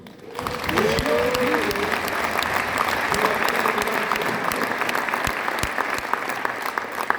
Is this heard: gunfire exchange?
no